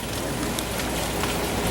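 Heavy rain from a tropical depression storm pounds down outdoors, a dense, loud, unbroken hiss of drops striking surfaces, heard alone.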